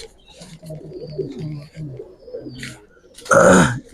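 Low, soft pigeon coos repeat through the clip, with a louder burst of fluttering or voice-like noise near the end.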